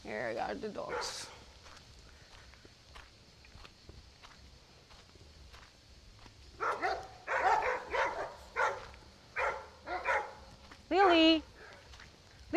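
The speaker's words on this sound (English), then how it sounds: "Here are the dogs." Dogs along a rural road in Alcube bark in a burst of several loud, close yelps and barks, following quieter footsteps and distant yaps earlier on.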